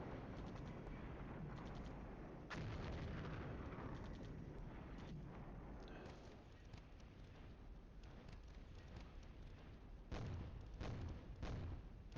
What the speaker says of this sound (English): My artillery should continue its shots moving from left to right across that objective area